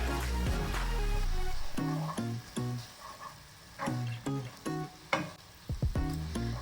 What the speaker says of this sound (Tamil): இந்த கீரை வந்து இந்த மாதிரி ஸ்டிர் ஃப்ரை பண்ணும்போது